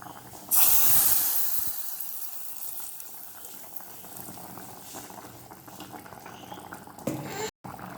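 Mustard seeds and curry leaves tempered in a pan crackle and sizzle loudly as they are poured into a mango fish curry, a sharp burst that eases into a steady bubbling hiss for several seconds.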